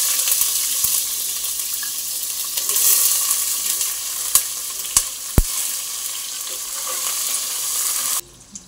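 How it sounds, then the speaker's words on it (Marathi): Onion frying in hot oil with garam masala and bay leaf for egg biryani, a steady close sizzle with a few sharp utensil knocks near the end before it cuts off. "आता कांदा भाजून झालेला आहे"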